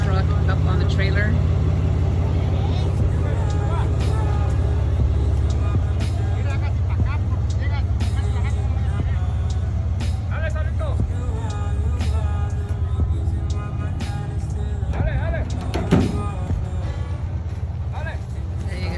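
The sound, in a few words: truck pulling a broken-down truck up onto a trailer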